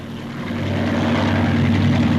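Aircraft flying past at the Farnborough Air Show, where helicopters including the Bristol 173 were on display; a steady propeller and engine drone with low harmonic hum swells up over the first half second and holds loud and continuous.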